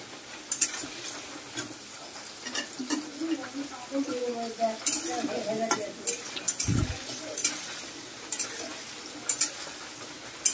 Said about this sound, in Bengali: পনিরটাকে যে ভাজবো এই পিঠ আর ও পিঠ করে